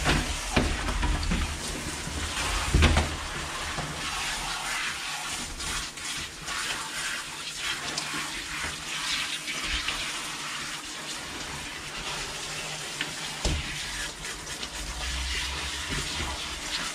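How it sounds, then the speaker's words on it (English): Water running steadily while a dog is rinsed during a grooming bath, a continuous splashing hiss from a tap or sprayer with occasional louder gushes, close by and without speech. "Let's rinse her."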